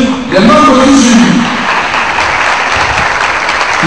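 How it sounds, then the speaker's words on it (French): An audience applauds the members of a contest jury at an evening event, a dense, loud wash of clapping that follows a brief spoken voice at the start and continues steadily to the end. "Je vous demande, madame, monsieur, d'applaudir les membres du jury."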